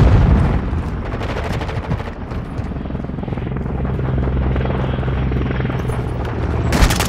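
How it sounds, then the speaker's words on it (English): Enemy overwatch helicopter overhead in Call of Duty: Modern Warfare II, a loud, steady rotor thrum that fills the scene while bursts of gunfire crackle around it. "Hostile overwatch helo in the area."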